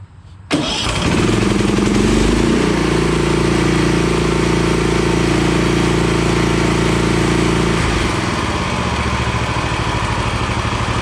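A Power Ease small gas engine from Princess Auto fires up after a moment of quiet, then runs loud and steady close by, its pitch dropping to a lower idle near the end.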